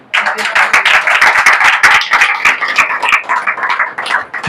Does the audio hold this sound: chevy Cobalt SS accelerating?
no